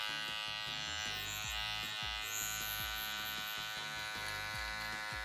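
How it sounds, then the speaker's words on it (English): An electric hair trimmer buzzes steadily while cutting curly hair during a high fade, a close, continuous hum with rhythmic pulses as it passes over the head, no talk. "I turn with my trimmer"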